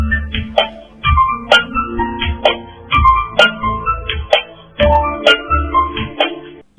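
Bouncy piano music from the Geometry Dash level Verus, with loud choppy chords, repeated punchy stabs and deep bass hits in a rhythmic pattern, played alone with no voices.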